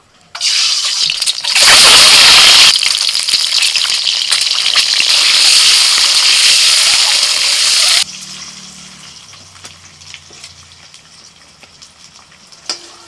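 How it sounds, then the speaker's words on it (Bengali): Eggs fry in hot oil, then kohlrabi is tipped into the same pan: a loud, dense sizzle for about eight seconds with a sharp surge early on, then dropping to a quieter, scattered crackle. "ডিমগুলো হালকা করে ভেজে তুলে নিচ্ছি ওই তেলের মধ্যে দিয়ে দিচ্ছি ওলকপি"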